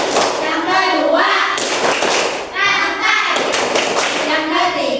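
Fifth-grade schoolchildren in a classroom perform the Tepuk Pancasila clapping routine, with patterned bursts of hand claps alternating with loud group chanting and a teacher's voice.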